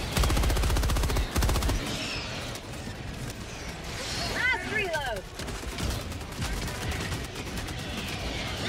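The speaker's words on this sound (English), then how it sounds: "MG sentry should help." Machine-gun fire from an MG sentry in the co-op shooter Helldivers 2, a dense rapid burst up front and then sustained gunfire and combat noise under players talking.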